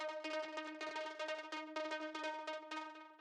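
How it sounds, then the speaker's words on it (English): A bright, simple synth pluck lead for a tech house track plays a bouncy, rhythmic pattern of short notes, clean and upfront with no other instruments. "So what this is, it's a really simple sort of like synth pluck."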